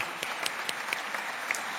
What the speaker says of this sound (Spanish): brindámosle un fuerte aplauso a Marco Miyashiro Arashiro